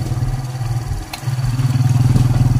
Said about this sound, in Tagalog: May motor sa likod.